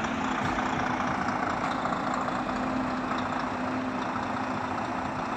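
A truck engine idles steadily and loudly throughout, a constant low rumble with a faint hum, while food stalls are set up at a spring funfair in Nantes.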